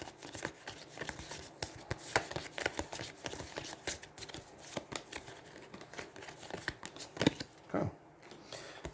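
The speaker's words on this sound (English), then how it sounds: "So we're going to shuffle." Randomizer card decks for the Aeons End War Eternal board game are shuffled by hand close up: repeated riffling and papery flicks in quick bursts, with soft handling noises between them.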